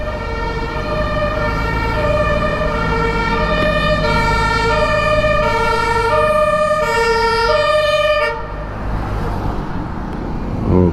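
Emergency sirens wail loudly along a busy street in Berlin, their rising and falling tones overlapping over heavy traffic rumble before cutting off near the end.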